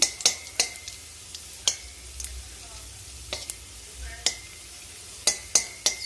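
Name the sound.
frying in a pan for carrot halwa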